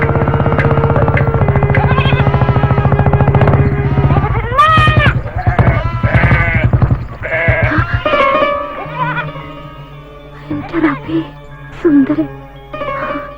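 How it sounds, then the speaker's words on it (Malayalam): Goats bleat in a Malayalam film scene, several wavering calls scattered over a steady backdrop of music and voices, with people talking around them. "ആടുകൾ പോട്ടെ."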